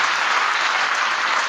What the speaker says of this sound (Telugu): అందరి కోసం చప్పట్లు పెట్టండి.